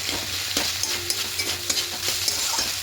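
Fenugreek greens frying in a pan under a steady soft sizzle, with a spatula stirring and scraping in a quick series of taps and scrapes, close by and moderately quiet.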